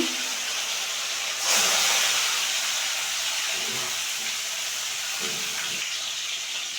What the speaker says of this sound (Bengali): এখন আমি মাছগুলি দিয়ে দেবো